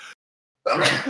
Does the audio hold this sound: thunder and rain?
no